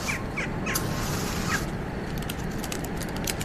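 Short bird calls over a dense, steady background noise in a scene with a seated man, an owl, a parasol and a fire, with a few brief chirps in the first half and faint high ticks later.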